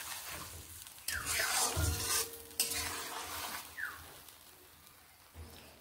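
Mango leather chutney is stirred in a pan, giving scraping, clattering strokes of a spoon against metal over a soft sizzle, close and moderately quiet with uneven pauses.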